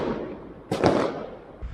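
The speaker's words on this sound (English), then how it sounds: "that's gunshots." A gunshot cracks near Balata, a single sharp distant burst that rises above the steady background and fades into a rumbling tail.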